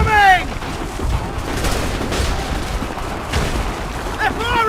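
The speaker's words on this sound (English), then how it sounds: "They're firing! No! Take cover!" Gunfire and explosive booms in the Assassin's Creed 3 video game, a dense, continuous barrage of shots and rumbling blasts with louder bursts at the start and end, shouting voices underneath.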